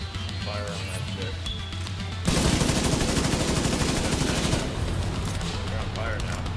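Gunfire from the video game The Division 2 erupts as a sudden sustained burst of rapid automatic shots, loud and close, then eases into lighter continuing fire amid game sounds.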